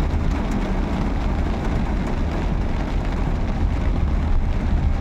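Heavy rain pours down in a steady, dense hiss, loud and continuous, heard from inside a sedan on a city street.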